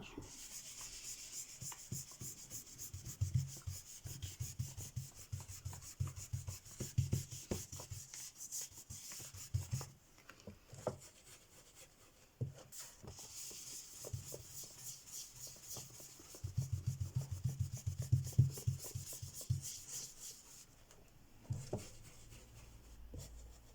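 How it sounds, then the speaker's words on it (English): Dry gel crayon rubbed into paper over a plastic-coated picture, producing close, repeated scratchy rubbing strokes in bursts with brief pauses between them. "just keep rubbing it in"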